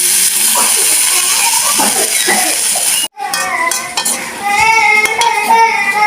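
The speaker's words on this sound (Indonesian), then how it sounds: "kita lembutin pakai sendok ini, aduk-aduk" Spoon stirring shrimp paste (terasi) in a pan with a little water, clinking and scraping steadily throughout, with a short pause midway, close and loud.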